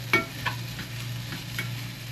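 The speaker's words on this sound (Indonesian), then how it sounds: "Kita goreng-goreng dulu ben asat." Instant fried noodles being stir-fried in oil in a pan, a soft steady sizzle broken by several scraping stirs of the spatula at close range, with no talking.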